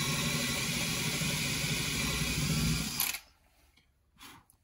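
A power drill bores into a hydraulic brake or clutch cylinder part from a Bond Bug: a loud, steady whine for about three seconds, then it cuts off, followed by a brief quieter mechanical sound.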